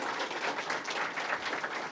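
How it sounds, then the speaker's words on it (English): An audience at an elementary school event applauds for elected officials, a steady wash of clapping from many hands, moderately distant, with no speech over it. "Let's give a round of applause for our elected officials."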